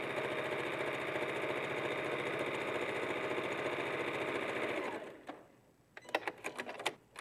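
A sewing machine runs steadily while stitching a fabric seam, a loud close whirring drone that stops after about five seconds, followed by a few sharp clicks and knocks.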